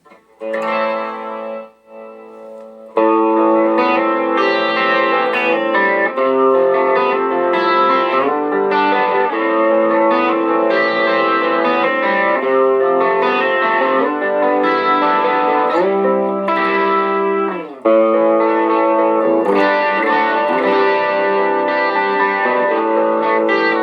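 An EastCoast G35 electric guitar plays chords and notes on a clean tone with a shimmering chorus effect, clear and upfront, with a brief quieter passage before the main playing begins.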